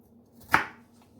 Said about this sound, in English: So I'll just go ahead and cut the ginger, and I peel it off.